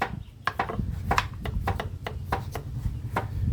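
A knife slicing through fresh bamboo shoots (labong) on a board, with repeated sharp cuts at an uneven pace, close and clear, over low background rumble.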